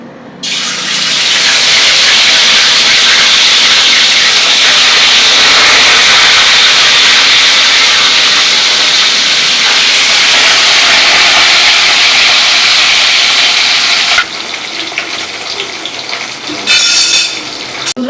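Food fries in a pan with a loud, continuous close sizzling hiss that holds for over ten seconds before dropping abruptly into quieter, uneven sputtering.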